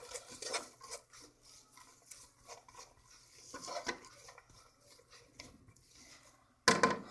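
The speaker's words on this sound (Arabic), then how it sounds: "وشويه الابزار صافي لا غير، ونحركو هادشي مزيان" Leeks and spices stirred in a pan for a leek quiche, giving a soft, quiet scraping and rubbing of a utensil against the pan, with a short louder clatter at the end.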